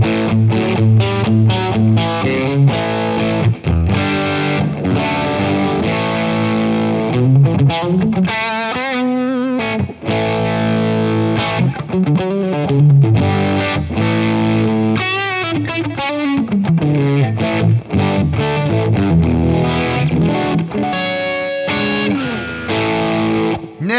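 Electric guitar through a Way Huge Pork & Pickle overdrive and fuzz pedal with the drive turned fully up, played as a continuous, loud, saturated riff with rich sustained harmonics and no speech.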